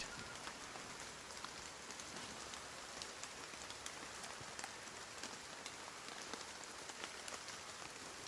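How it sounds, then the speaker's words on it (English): Rain in the survival video game Nightingale: a steady, even patter of raindrops on surfaces, a dense hiss with scattered sharper drops, continuous and unbroken by voices. "Suppose we could just enjoy the sound of rain."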